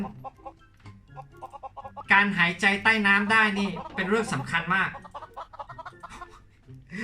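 Blocky video-game chickens cluck and squawk in Mini World: Block Art, a busy background chatter running beneath someone talking over it.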